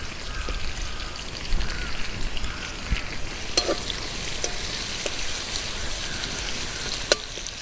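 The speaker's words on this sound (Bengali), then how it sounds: "এই তেলের মধ্যে আবার পেঁয়াজ দিয়ে দেব।" Onions frying in hot oil alongside potato and pointed gourd make a continuous close sizzle, with occasional sharp pops and light stirring clicks and no talk.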